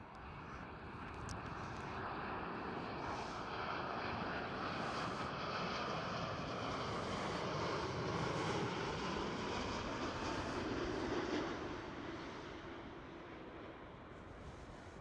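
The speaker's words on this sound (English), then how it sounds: "Right here we do have a KLM 787." A KLM Boeing 787 at Schiphol Airport produces a broad, steady jet roar that swells and holds, then eases off slightly, heard at moderate distance under open-air wind noise with no talking.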